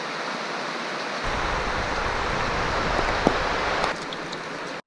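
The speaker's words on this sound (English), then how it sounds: "Hopefully it's going to stop raining today sometime." Heavy rain drums steadily on a backcountry hut in New Zealand, a loud, dense patter that picks up partway through. It continues unbroken with a few sharper drips, and no one speaks.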